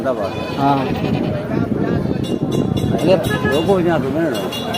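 A ram bleats in wavering, repeated cries up close, mixed with people talking over it in an outdoor village setting.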